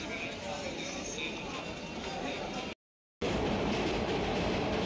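Train noise near Sainthia railway station in West Bengal, heard from aboard a passenger train bound for Rampurhat: a steady, loud broadband rumble throughout, broken by a short dropout, with no speech.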